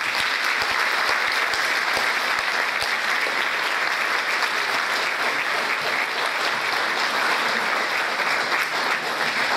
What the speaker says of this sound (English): I would like for you to take a moment to applaud the seniors that we have here in this ensemble.